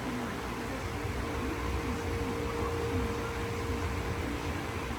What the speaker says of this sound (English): You hear the humming sound.